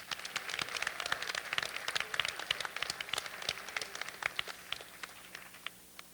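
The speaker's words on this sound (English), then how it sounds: "can you join me in giving our host, Andrew and Amy, another round of applause?" Soft, crackling applause from a small group of guests honoring the hosts at a gathering in a private house in Boulder, thinning out and fading toward the end.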